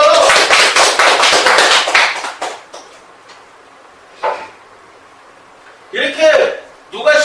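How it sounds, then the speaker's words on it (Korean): An audience claps at a lecture, giving a dense, loud burst of applause for about two seconds before it fades into near quiet. Brief knocks and rustles follow. "이런 부분에서 박수 치라고요!"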